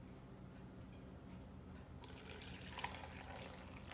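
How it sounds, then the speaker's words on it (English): A cup of hot potato-boiling water is poured into a blender holding onion and garlic. A steady close rush of liquid grows brighter partway through, with no talking. "you also wanna pour in about a cup of the boiled water that we used for the potatoes"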